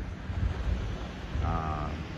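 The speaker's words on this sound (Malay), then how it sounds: "Ini pantai anak air ni." Surf washes steadily onto the beach at Pantai Anak Air under gusty wind noise on the microphone, a low continuous roar with a brief fainter tonal sound partway through.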